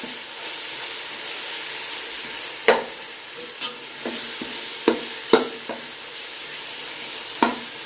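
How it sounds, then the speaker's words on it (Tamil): Steady sizzling of onions, tomatoes, chili powder and turmeric frying in oil for vegetable brinji, with occasional scrapes and clinks of a spoon stirring the pan, close by and without talk. "இதுவும் சேர்ந்து நல்லா வதங்கி எண்ணெய் பிரிஞ்சு வரட்டும்"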